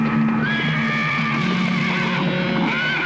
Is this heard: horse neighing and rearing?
yes